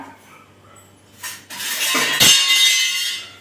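A ladle stirs and scrapes in a pot of boiling drumstick (moringa) soup, with a light clink and a rising, bubbling rush of liquid close by.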